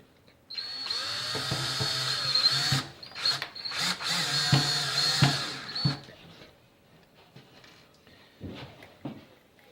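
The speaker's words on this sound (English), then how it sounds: "we switch over to the Phillips bit, and we are going to attach the hinges to the base" Power drill with a Phillips bit driving screws to fix hinges onto the wooden base of a soap mold: several whining bursts of several seconds each, separated by short pauses and followed by quieter handling clicks.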